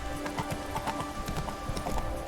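Geralt's horse Roach galloping in The Witcher 3, a steady rhythmic clip-clop of hooves at moderate volume, continuous and close, with no talk over it.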